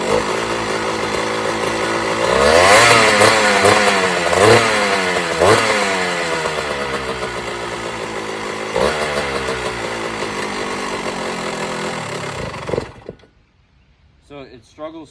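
A 1998 Kawasaki KX125 two-stroke dirt bike engine runs rough and struggles to idle, with loud, buzzing revs that rise and fall before it dies away near the end.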